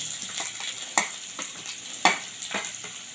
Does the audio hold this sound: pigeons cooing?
no